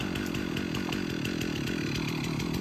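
A Stihl 362 chainsaw runs at full throttle cutting wood outdoors in hot weather, a loud, steady buzzing roar that holds without a break and drowns out everything else.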